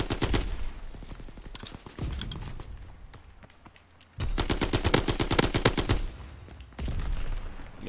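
Sustained automatic gunfire in the video game Call of Duty WWII, with dense rapid bursts broken by short pauses, loud and close, alongside game noise and no speech.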